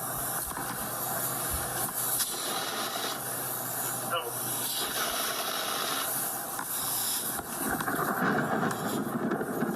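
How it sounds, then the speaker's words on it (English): Fire extinguisher spraying onto a flaring fire at a night scene, a loud continuous hissing blast with slight surges, under occasional voices. "re-entered scene because it's flaring up to put it out with the extinguisher again"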